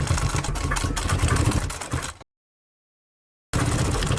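A sewing machine stitches fabric during tailoring work, giving a steady, fairly loud mechanical whir that runs continuously, stops abruptly for about a second, then resumes.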